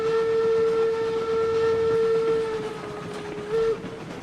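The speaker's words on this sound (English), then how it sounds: "Give the whistle, we are stopping." In the RailRoads Online video game, a steam train hauling tankers sounds one long, steady whistle, loud and clear with no other sound, ending in a short final blast.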